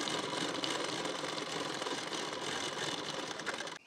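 Sewing machine running steadily while stitching a hook placket strip onto the right side of blouse fabric, a continuous close whirring motor and needle hum that stops abruptly at the end.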